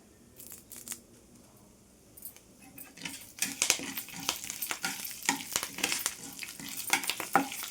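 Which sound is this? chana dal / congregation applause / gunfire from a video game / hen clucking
chana dal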